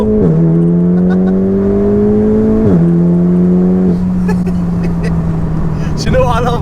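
A VW Golf R Stage 2 with a DSG gearbox drops a gear and accelerates, its engine note climbing steadily, dipping at a shift and climbing again, loud and close inside the cabin.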